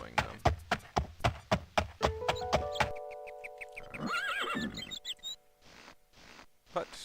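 Horse hooves clop in a steady, fast rhythm while riding in the video game Daggerfall, loud and close, giving way to a whinny and a few scattered later steps.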